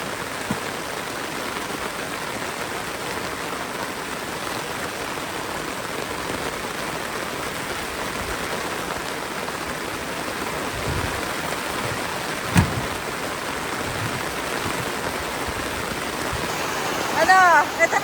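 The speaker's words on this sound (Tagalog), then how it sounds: "Lakas na ulan." Heavy rain pours steadily over a mountain campsite at Atok, Benguet, with a dense, continuous hiss of drops drumming on surfaces close by, one brief louder knock midway and a voice briefly at the very end.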